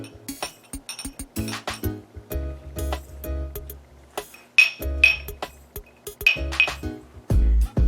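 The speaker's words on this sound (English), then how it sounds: "an old spice bottle here just to kind of tap it down and get it nice and flat" An old spice bottle taps down a graham cracker crumb crust in a dish, giving a series of close, sharp glassy clinks and knocks. The taps come in irregular bursts with short pauses and a few heavier thuds.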